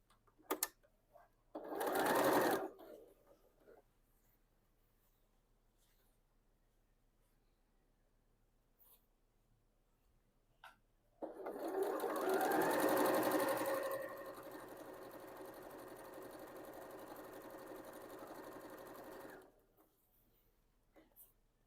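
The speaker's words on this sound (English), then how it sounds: "we'll sew those together with a 1/4-inch seam" A sewing machine stitches quilt fabric strips together with a quarter-inch seam in two bursts, a short whir followed by a longer steady run of about eight seconds, with quiet pauses between.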